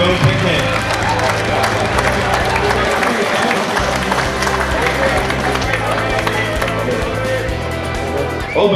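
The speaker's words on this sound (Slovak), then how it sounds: "Obrovský potlesk ešte raz" Loud, dense audience applause and clapping at an outdoor goulash cooking contest, sustained and close, with a voice speaking over the crowd.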